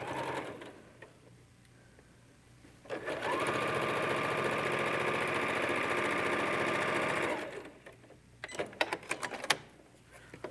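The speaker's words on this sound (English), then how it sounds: "we would just sew our fans together and continue to sew them" A domestic sewing machine stitching Dresden plate quilt fan pieces together, one sustained steady whirring run of about four seconds, close and loud, followed by a few clicks and handling knocks.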